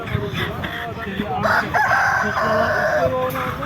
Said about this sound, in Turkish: Burada yine köy tavukları